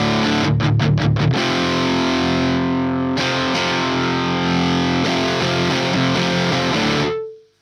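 High-gain distorted electric guitar through a Hughes & Kettner TriAmp Mark 3 amp: a quick burst of chugged chords, then loud sustained ringing chords that are cut off sharply at the end.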